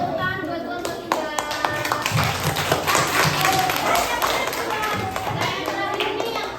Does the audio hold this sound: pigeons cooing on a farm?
no